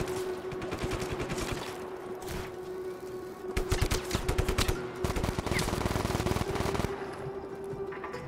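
Rapid automatic gunfire in the video game Just Cause 3, with several dense bursts of shots and a louder cluster midway over a steady game background hum.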